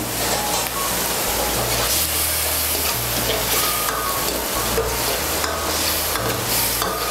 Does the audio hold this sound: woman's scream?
no